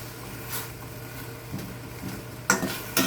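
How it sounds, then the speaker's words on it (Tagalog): Saluyot leaves are stirred in a pan with garlic for dinengdeng, giving soft scraping and light clatter of a utensil against the pan over a faint sizzle, with a louder burst of stirring near the end. "Ayan, nilagay ko na po yung saluyot. Tapos halo-haloin."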